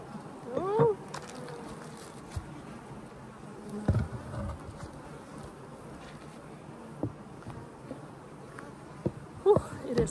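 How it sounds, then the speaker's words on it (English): Honey bees buzz around a beekeeper working a nuc on a hot day during a strong nectar flow, a steady drone with individual bees zipping close to the microphone, plus occasional handling knocks. "Angry little bee there,"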